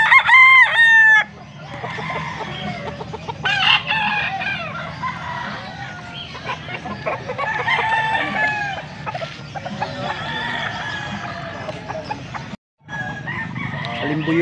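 A Sweater breed gamefowl rooster crows loudly and close, its harsh call repeating over a busy gamefowl market in Bocaue with other birds clucking and people talking in the background.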